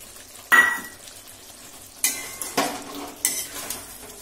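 A ladle scrapes and stirs a ground mix of roasted peanuts, poppy seeds and cumin into a simmering vegetarian Kashmiri potato curry, in several separate close strokes over a faint bubbling background.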